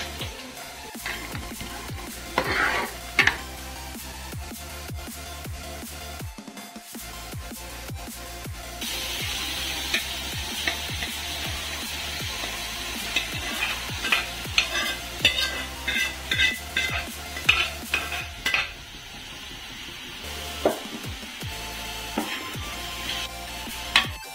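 Onion with ginger garlic paste fries in a pan for a simple chicken curry, giving a continuous sizzle broken by irregular scraping, stirring and knocks of a utensil against the pan, close and moderately loud.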